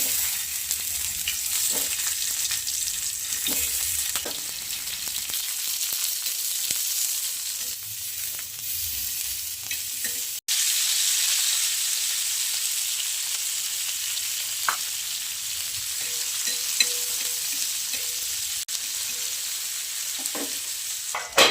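Oil sizzles and crackles steadily in a griddle pan for tomato and raw mango chutney, a continuous hiss with occasional pops and light scraping, no voices.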